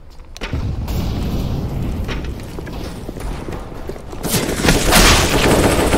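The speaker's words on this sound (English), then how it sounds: "Throwing a grenade." A grenade thrown in a CS:GO match, a continuous rumble of game combat with scattered shots and a louder blast-like swell near the end, no talk.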